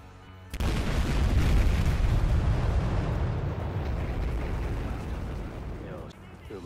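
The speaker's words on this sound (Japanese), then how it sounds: "爆発までもう時間がない。" A huge explosion tears through a drug factory in the video game Battlefield Hardline: a loud, sustained roaring blast with deep rumble that holds for several seconds before slowly dying away.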